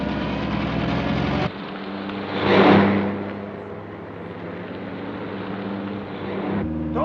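A 1940 film's car drives a mountain road, its engine a steady low drone under a swelling rush of passing air, with an abrupt cut in tone partway through.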